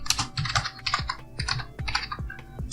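Computer keyboard typing while entering Python code, a quick run of close, crisp key clicks with a few heavier strokes, steady and alone.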